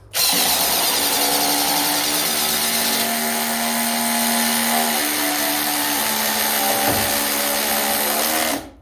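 Two Masterforce hydraulic impact drivers run together on high, a loud continuous whirring hum with shifting pitch that holds for about eight seconds before both stop abruptly.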